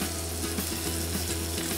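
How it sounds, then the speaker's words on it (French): Small pieces of chicken searing in hot oil in a saucepan, a steady crackling sizzle with a low hum beneath, close and continuous, no talking. "On laisse monter l'huile en température, on l'homogénise, on vérifie la pince, on y met un petit morceau de volaille"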